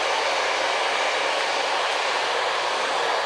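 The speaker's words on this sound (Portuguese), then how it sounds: "Agora eu vou passar o secador para espalhar esse produto." A hair dryer blows steadily and close to spread shine pomade through freshly cut men's short hair, a continuous broadband whoosh with no talk.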